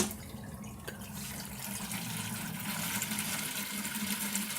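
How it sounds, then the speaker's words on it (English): Water siphoned out of an aquarium gurgles and trickles steadily, a close, continuous watery rush with faint drips throughout. "we're trying to siphon off what we can"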